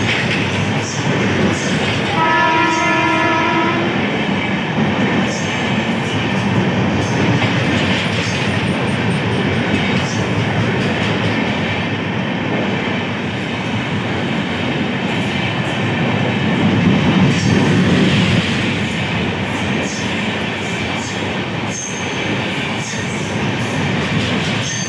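A Saharsa–New Delhi Humsafar Express train passes through Bachhwara junction station. Loud, steady rumble and rattle of the cars runs throughout, with clickety-clack from the wheels on the rails, a few horn-like tones early on, and no voices.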